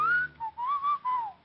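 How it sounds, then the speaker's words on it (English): A single low human whistle, a short wavering phrase of a few connected notes, close and clear with nothing else around it. "he changed it to a low whistle."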